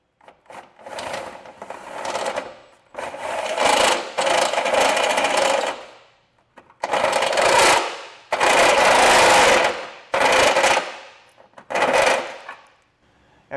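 Metal around the center hole of a 2025 Subaru's Trailer Mate Class III trailer hitch is enlarged in about seven loud, harsh grinding bursts separated by short pauses. Nobody speaks.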